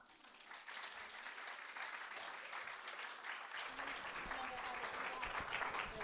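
A lecture audience applauds to welcome Bart Devolder to the stage, steady sustained clapping from many hands filling the room and swelling slightly toward the end.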